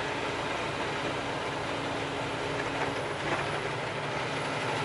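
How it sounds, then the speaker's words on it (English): A heavy truck drops from tenth to ninth gear, its engine and road noise forming a steady, loud drone heard from inside the cab with only a slight shift in tone partway through. "Downshifted to 9th gear."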